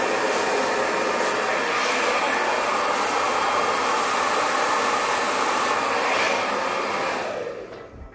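A handheld hair dryer runs during a reverse pin blow dry with a round brush, a loud, steady close-up roar that holds for several seconds before tapering off at the very end.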